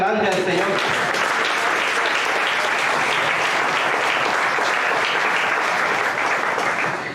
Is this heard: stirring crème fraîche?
no